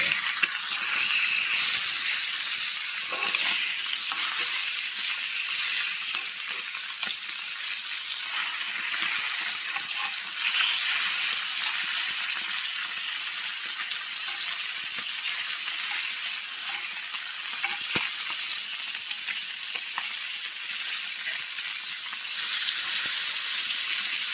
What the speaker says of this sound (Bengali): তেলটাকে গরম হয়ে গেছে, এবারে মাছটা দিয়ে দেবো।